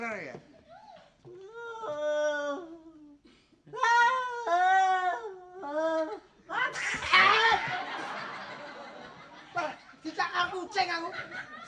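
A cat meows loudly several times in drawn-out, wavering cries, with voices and laughter around it and louder chatter and rustling later on.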